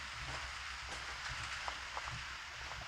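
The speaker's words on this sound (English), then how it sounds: "getting a little bit of rain. Just some drizzling right now" Light drizzle patters steadily across the ground in a desert camp early in the morning, a soft continuous hiss with a few scattered drops standing out, no voices.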